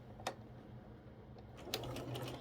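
A sewing machine stitches the seams of quilt blocks, running in a quiet, steady mechanical whir with a couple of brief clicks, heard close and alone without talk.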